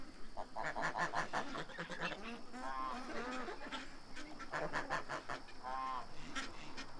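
Ducks being fed, a flock honking and quacking continuously nearby at moderate level, calls overlapping with no talk.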